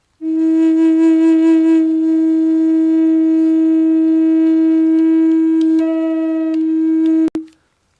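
Meditation flute held on one steady low note for about seven seconds, bright overtones fluttering early and a second tone added near the end before a sharp click cuts it off.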